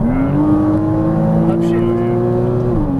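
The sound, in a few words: Porsche Cayman S engine accelerating on race track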